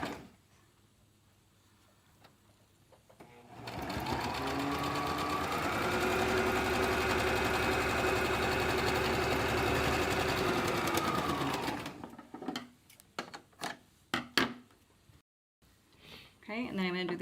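A sewing machine runs steadily for about eight seconds, basting the sides of a layered fabric face mask, with quiet handling clicks and fabric rustle before and after.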